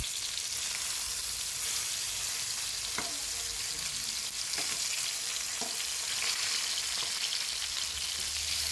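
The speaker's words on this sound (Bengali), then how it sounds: "এই তো কই মাছের এক পিঠ ভাজা হয়ে গিয়েছে," Koi fish sizzles in a frying pan for a fish curry, giving a loud, steady crackle with a few soft scrapes and clinks from stirring or handling, close up and without talk.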